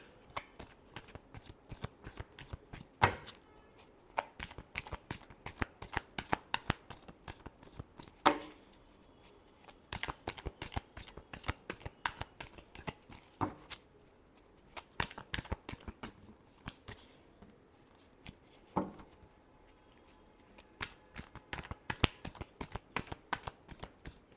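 Cards are shuffled again and again in a quiet room, with crisp riffling bursts and sharp snaps repeating in an uneven rhythm, close and alone.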